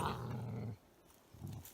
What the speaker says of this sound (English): Belgian Malinois.